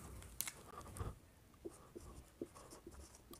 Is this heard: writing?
yes